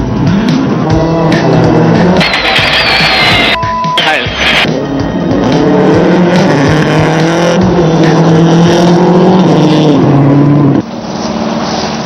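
A Subaru WRC rally car drives at speed on a stage at Rally Japan 2006, its engine loud and close, revving and shifting repeatedly through gears with a sharp drop near the end.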